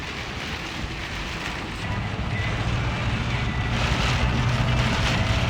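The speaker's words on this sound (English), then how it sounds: "Look at the wind just pushing that rain across the road." Strong storm wind drives heavy rain across a road, a steady, dense roar of wind and rain with gusty wind noise on the microphone that swells louder partway through.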